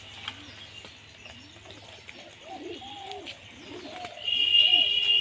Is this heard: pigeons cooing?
yes